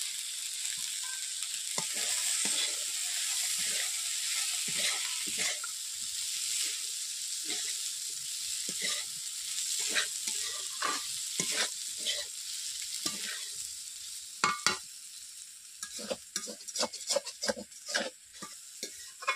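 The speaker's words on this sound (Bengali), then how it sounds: "সবজিগুলো দেওয়ার পর আমি 2 থেকে 3 মিনিট কষিয়ে নিচ্ছি ভালো করে।" Potatoes, yardlong beans and soybean chunks fry and sizzle in a pan under a steady hiss, with a run of scraping stirs that turn sharper and more frequent toward the end; no voices.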